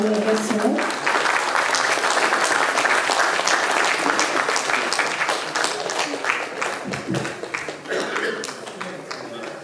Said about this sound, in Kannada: ತಮ್ಮೆಲ್ಲರ ಅಭೂತಪೂರ್ವವಾದ ಚಪ್ಪಾಳೆಯೊಂದಿಗೆ ಇದನ್ನು